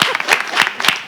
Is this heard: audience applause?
yes